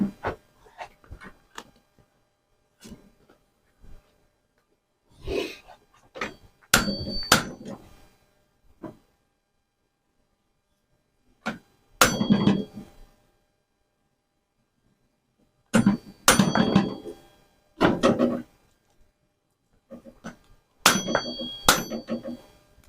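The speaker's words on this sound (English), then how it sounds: "Don't think you're getting much hammer action there, Biggin." Hammer blows on a bicycle sprocket come in several short clustered bursts of sharp metallic knocks, separated by quiet gaps, fairly close and moderately loud.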